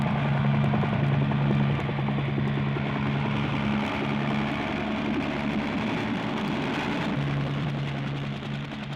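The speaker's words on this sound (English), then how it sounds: "it looks like the helicopter's come for me" A helicopter arrives with a loud, steady rotor and engine drone that holds a low humming tone throughout, easing slightly toward the end, with no voices.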